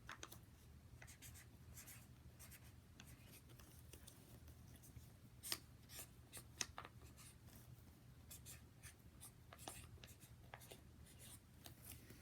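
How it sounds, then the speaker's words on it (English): A marker writing on the wings of a paper airplane, soft scratchy strokes in quick irregular bursts, faint and close in a quiet room. "you can use a marker of some sort and write on your wings"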